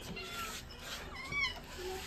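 A cat meows close by, a few short rising and falling calls over a quiet room background, while someone speaks softly nearby.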